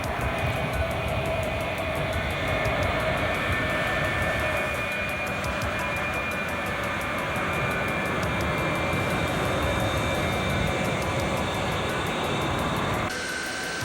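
United Airlines Boeing 720 jet airliner taxiing out, a steady whining jet roar with tonal turbine whistles, continuous and fairly distant, ending with a brief shift in tone.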